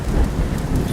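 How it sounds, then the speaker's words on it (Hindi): Heavy cartoon rain pours steadily with a dense, loud roar and low rumbling, continuous throughout the brief moment. "रात भर तेज बारिश होती रही"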